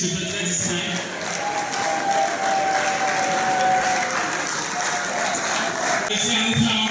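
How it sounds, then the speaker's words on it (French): A crowd at an evening event in Cameroon applauds a discreet gentleman, with sustained clapping throughout and a faint tone and murmuring voices running beneath the applause. "Mesdames, messieurs, applaudissez pour ce monsieur qui se fait très discret"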